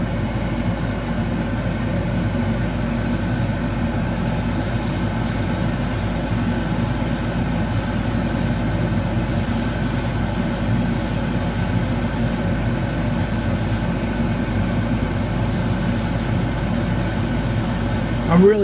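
A spray gun lays gloss black paint in a waterfall spray booth, a continuous loud hiss over the booth's steady roar, with the spray cutting in and out in short bursts through the second half.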